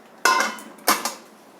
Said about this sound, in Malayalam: അപ്പം ആദ്യം ഈ പാത്രം ചൂടാക്കാൻ പോവുകയാണ്.